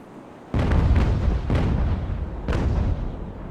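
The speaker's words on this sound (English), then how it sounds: "Let's see how the grape shot does." Grape shot cannon fire from sailing warships in the naval battle game Ultimate Admiral: Age of Sail: three heavy booming volleys in quick succession, each with a sharp crack and a rolling rumble that fades under the next.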